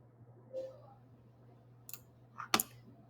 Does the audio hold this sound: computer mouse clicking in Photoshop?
yes